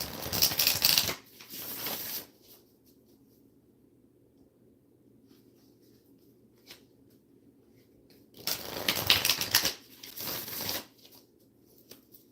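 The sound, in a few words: oracle cards being shuffled and pulled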